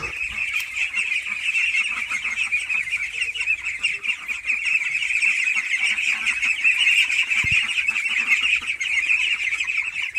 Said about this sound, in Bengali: আমি আপনাদেরকে কিছু হাঁস দেখাই চলেন এখানে কিছু হাঁস আছে